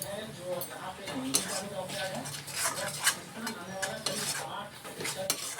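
A spoon scrapes and clinks against a pan while turmeric and chili powder masala is stirred for a crab curry, with steady irregular metallic clatter and scraping at close range.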